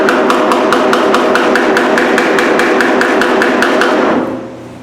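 Steady, rapid metallic tapping of a hammer on a Triumph Spitfire bonnet, about four strikes per second with bright ringing overtones, continuing for several seconds before stopping abruptly.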